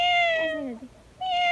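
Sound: woman imitating cat meow

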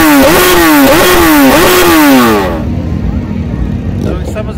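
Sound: motorcycle engine revving

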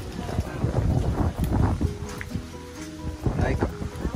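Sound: strong wind blowing outdoors

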